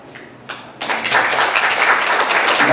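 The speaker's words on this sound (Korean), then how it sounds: "박수 한번 받아주세요" Audience applause at a lecture gathering of a Confucian academy society, starting with a few scattered claps and swelling into steady clapping from a roomful of people.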